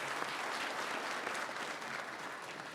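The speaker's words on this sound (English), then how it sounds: "And a round of applause to them." An audience at an international AI conference gives a round of applause for award winners, a faint, steady patter of many hands clapping alone without talk.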